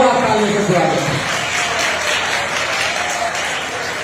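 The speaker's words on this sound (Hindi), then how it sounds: "दोस्तों जोरदार तालियों से स्वागत हो," A crowd at an event in a judo hall near Drona Stadium in Kurukshetra bursts into loud welcoming applause, with a speaker's voice over the clapping at the start before the applause continues alone.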